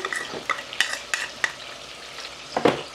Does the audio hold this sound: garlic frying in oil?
yes